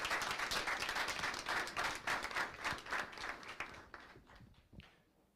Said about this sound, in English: another round of applause for all of the Pocomoke High School student athletes.